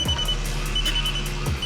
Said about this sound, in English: The last thing in the app that I like is the alarm.